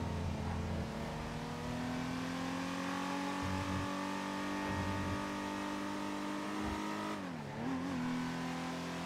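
Newly bought two-seater car driven in the GTA video game, a steady, moderately loud engine hum that holds one pitch, then falls and dips near the end, with soft thumps along the way and no talk.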